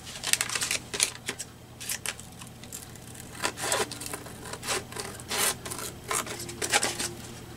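Paper card edges rubbed down for a collage card deck, rough scratchy strokes in a repeated back-and-forth rhythm, close and fairly loud, with no speech.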